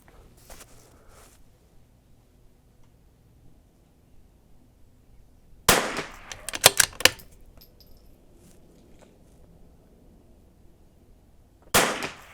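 Vudoo V-22 rifle shots on an outdoor range, loud sharp cracks heard alone: one near the middle followed by a few quick rattling clicks, then another crack at the end, with quiet in between.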